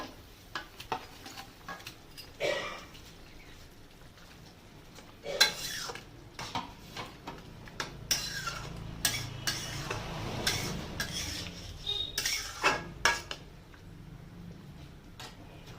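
Tilapia pieces go into a pan of boiling curry gravy amid a clatter of utensil knocks, spoon scrapes and clinks, with a low bubbling simmer underneath and no talking.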